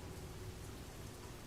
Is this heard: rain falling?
yes